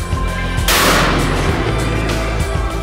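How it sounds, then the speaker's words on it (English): A single loud, close boom rings out from the daily noon cannon at Zagreb Cathedral, fired with 100 grams of black powder, followed by a long rumbling decay. "Every day, for the last 100 years, it shoots a cannon at 12 o'clock noon."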